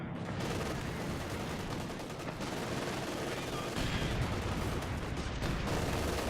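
Dense gunfire from an MG42 machine gun in a World War II strategy game match between German Wehrmacht and US forces, continuous bursts and distant shots under a commentator's talk.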